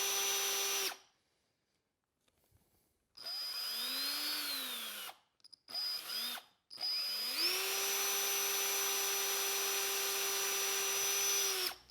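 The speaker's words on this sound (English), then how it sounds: "apply nice steady pressure and keep the drill speed under what ProMaxx recommends in the instructions." A power drill spins up in bursts to drill out a broken EGR bolt on a 6.7 Powerstroke diesel engine, a whining motor tone rising and falling between short pauses, then running steadily.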